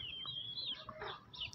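Chickens cluck and squawk in a village yard, a short burst of close, sharp fowl calls with no talking over them.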